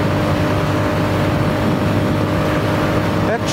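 A Royal Enfield Classic 350 motorcycle ridden fast in fourth gear at over 100 km/h, with a steady, loud engine drone blended with heavy wind rush that stays constant throughout.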